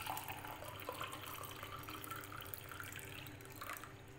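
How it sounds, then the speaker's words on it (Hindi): Water pours steadily from a cup into thick homemade mango juice, a continuous close splashing trickle with no talking. "तो ये 1 कप पानी जो है मैं इसमें और ऐड करती हूँ।"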